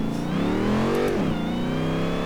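Supercharged Hellcat engine fitted to a Rolls Royce in Forza Horizon 3, heard from the cabin as a steady rev that climbs to a peak, dips sharply and then settles into a sustained drone.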